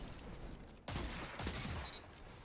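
Exotic scout rifle fire in a first-person shooter video game, two sharp loud shots in quick succession over a steady background hum, no talking.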